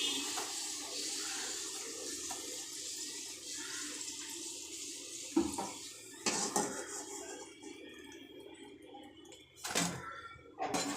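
Puris sizzle and splutter in hot oil in a pan, a steady frying hiss with occasional sharper crackles and clatter of utensils, close and fairly loud, no talk.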